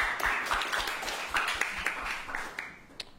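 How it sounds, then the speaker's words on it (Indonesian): Audience clapping in a comedy-competition final, a moderate mix of claps with a few louder individual claps standing out, fading slightly toward the end. "Tepuk tangan yang Gemini dong."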